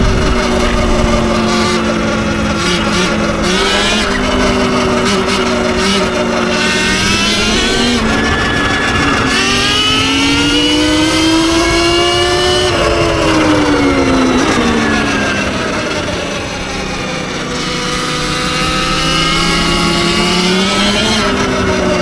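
A Surron electric dirt bike at speed gives a loud, steady motor whine under rushing wind. The pitch climbs and falls with throttle, easing briefly near the middle before rising again.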